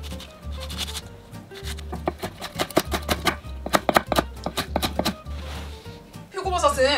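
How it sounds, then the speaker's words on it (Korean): Knife chopping Cheongyang chili peppers on a cutting board, a quick run of sharp, irregular taps close by, with a low background hum and a brief rustle near the end. "청양고추도 썰어주도록 할게요."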